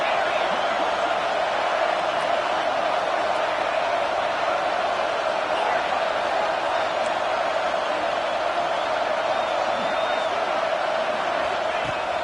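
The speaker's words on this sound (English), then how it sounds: "This crowd bringing the energy and noise early." Stadium crowd at a college football game roars steadily throughout, a dense, continuous wash of cheering and noise with no clear breaks.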